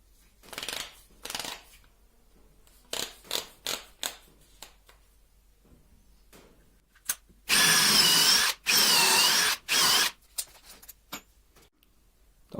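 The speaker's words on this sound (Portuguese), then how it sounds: "Vamos abrir mais um furo. A mesma broca 5 milímetros." A DeWalt drill bores a 5 mm hole in wood, first giving several short buzzing bursts, then two long loud steady whines of a couple of seconds each, followed by quick trigger blips, close and alone.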